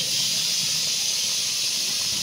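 Fat added to a pot of cooking goat meat trimmings sizzles with a strong, continuous close hiss and no pauses.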